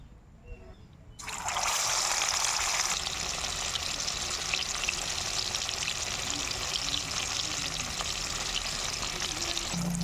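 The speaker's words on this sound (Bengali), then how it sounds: "তেলটা গরম হয়ে গেছে, এবার মাছগুলো আমি তেলের মধ্যে দিয়ে দেব" Pieces of rohu fish dropped into hot oil, a sudden loud burst of sizzling that settles into a steady, dense crackling hiss close by, no talk.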